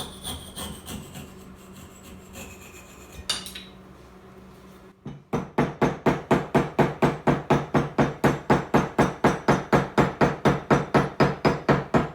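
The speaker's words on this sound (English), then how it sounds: "then I will use an actual hammer to seat the wedge" After some light scraping and a pause, a hammer drives a metal wedge into an axe handle in a fast, steady rhythm, around two dozen loud ringing blows close by.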